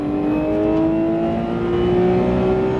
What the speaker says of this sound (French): Allez, tu peux accélérer à fond.